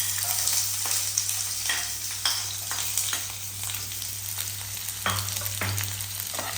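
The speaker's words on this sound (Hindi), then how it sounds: "इसको मैं अभी अच्छा से भून लूंगी" Chicken with mushrooms sizzles steadily in a hot pan, a continuous frying hiss broken by occasional stirring scrapes and louder spatters, close up with no talking.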